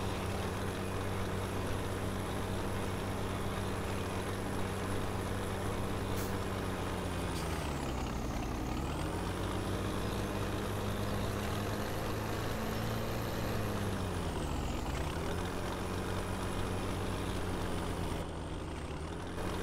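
A cheap tractor with decent horsepower runs in a farming simulation game, its engine droning steadily and loud, with the pitch dipping and rising twice as the revs change, no talk over it.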